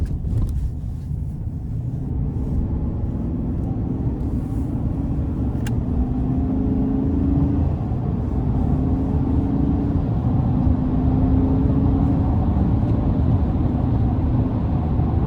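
A 2024 GMC Sierra 1500 Pro X31 with the 5.3 V8 pulls hard onto an interstate, a steady deep engine rumble and road roar holding strong from start to finish, heard from inside the cab.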